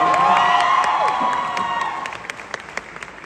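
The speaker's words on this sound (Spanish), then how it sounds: "Un aplauso, por favor." Theater audience at a musical's 200th performance celebration applauding and cheering loudly, a dense wash of clapping and shouts that gradually thins to scattered claps.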